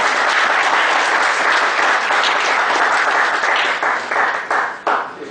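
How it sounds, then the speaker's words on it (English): A seated audience at a talk on GST for charitable trusts applauds the speaker, a steady, full roar of clapping that stays loud and even before thinning out into a few separate claps near the end. "please thank the speaker in the round of applause"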